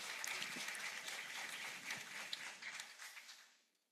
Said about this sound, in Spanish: Un aplauso a Alicia